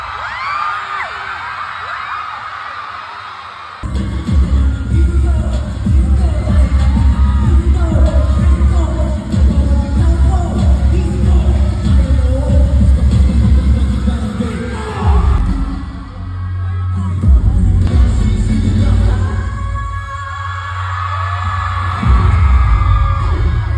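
A large, loud crowd at a concert in Dubai cheers, whoops and yells in sustained waves, building after a quieter opening and rising again toward the end.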